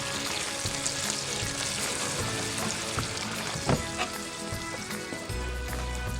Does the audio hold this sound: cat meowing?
no